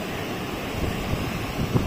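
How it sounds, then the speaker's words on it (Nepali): Sea surf rolls in at Diu beach, a steady washing rumble mixed with wind buffeting the microphone, with no voices. "कस्तो मजाको छाल आइरहेछ"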